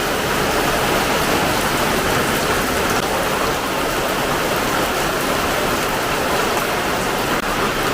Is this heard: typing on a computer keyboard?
no